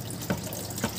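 Tap water runs steadily into a basin while a fish cutting board and bowl are rinsed, a continuous close splashing stream with two brief louder gurgles, heard alone.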